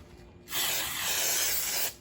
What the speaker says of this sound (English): Yeah, I'm spraying it kind of hard.